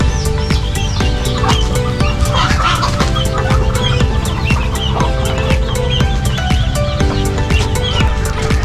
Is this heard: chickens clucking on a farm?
yes